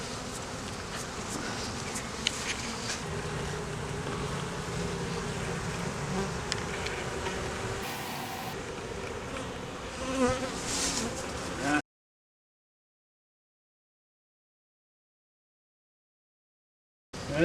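Honey bees buzz densely and continuously around hive frames during a honey harvest, a close, busy hum that cuts off abruptly into silence near the end.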